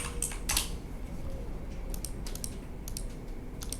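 Typing on a computer keyboard, heard as scattered sharp key clicks in a few short bursts over a steady low background hum, faint and close with no talking.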